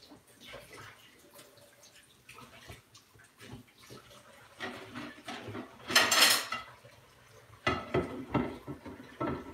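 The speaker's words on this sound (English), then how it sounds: "I gotta wash my carrots and my celery." Kitchen sink with carrots and celery being washed, clinks of dishes and utensils over a thin trickle of water, with a louder splashing burst midway and more clattering near the end.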